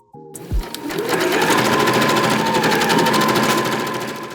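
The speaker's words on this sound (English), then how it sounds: "It is definitely sounding nicer now, and the sewing is much improved." A freshly cleaned sewing machine runs a test stitch, starting with a few clicks and then a loud, steady rapid mechanical whirring and ticking that holds evenly for several seconds.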